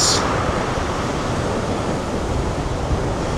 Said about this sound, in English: Let's have another quick look at those waves.